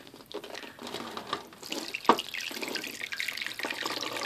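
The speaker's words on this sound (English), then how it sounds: "I'm just gonna water it in." Water poured onto homemade potting soil in a plant pot, a soft continuous trickle and splash with a sharper spatter partway through, close and moderately quiet.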